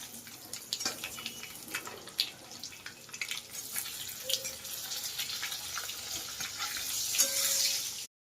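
Spices and leaves frying in hot oil in a tempering pan, a steady close sizzle with crackling pops throughout, building slightly louder near the end.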